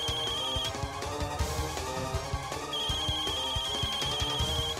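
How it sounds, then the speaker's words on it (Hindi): A phone rings with a repeating electronic tone, steady and insistent, layered over dramatic background music. "मल्हार का फोन होगा।"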